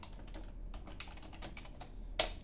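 Quiet keystrokes tap on a computer keyboard while someone types a Hello World command at a Linux console, with soft irregular clicks and one louder key strike near the end.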